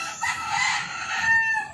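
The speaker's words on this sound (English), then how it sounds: "I know it's kind of loud, a lot of roosters and engines and everything." Several roosters crow loudly on a busy street in the Philippines, their overlapping calls running continuously under steady traffic and engine noise.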